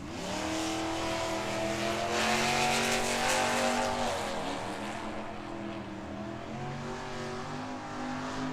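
A Mopar drag car launches down Tucson Dragway, a loud rising engine roar with stacked harmonics that climbs through the gears, peaks, then fades as the car pulls away into the distance.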